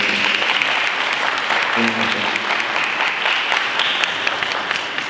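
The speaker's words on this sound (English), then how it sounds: "Give her a hand clap for Freddie." An audience gives a loud, sustained round of applause, a dense even clatter of many hands, with a faint voice briefly audible partway through.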